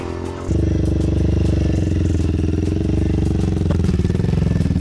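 A motorcycle engine in a home garage kicks into a loud, close, steady throbbing idle after a short quieter moment, its rapid pulsing beat continuing with a slight rev near the end.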